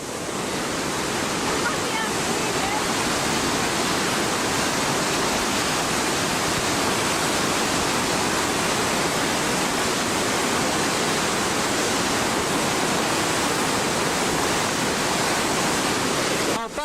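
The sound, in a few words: water rushing out of power station outlet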